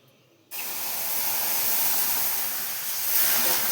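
Milk hits hot, deeply fried semolina in a pan, bursting into a loud, steady sizzling hiss that starts abruptly after a brief quiet moment and holds strong, swelling slightly near the end, with no talking.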